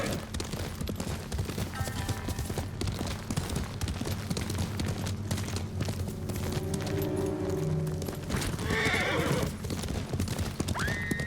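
Horses in the video game Ghost of Tsushima neigh and whinny while hooves clip-clop steadily on the road, loud and close over a layered game soundscape with music, without speech.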